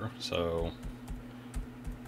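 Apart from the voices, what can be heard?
typing an IP address on a computer keyboard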